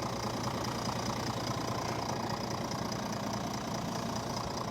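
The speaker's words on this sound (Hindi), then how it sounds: "Inline 6 cylinder 3 litre turbocharge engine आपको ये मिलता है डीजल में।" A Mercedes GLS 450d AMG Line with a 3-litre inline six-cylinder turbo diesel idles at a steady, low, muted hum with a faint even rumble. No speech is heard over it.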